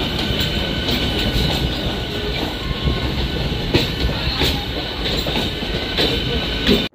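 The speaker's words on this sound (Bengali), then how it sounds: "হাওড়া স্টেশনের ওল্ড কমপ্লেক্সের 7 নম্বর প্ল্যাটফর্ম থেকে আমাদের ট্রেন ছেড়ে দিল" A commuter train pulling out of a platform at Howrah station in Kolkata, with a loud, continuous rumble of wheels on rails and rhythmic clicks and clanks as it moves off.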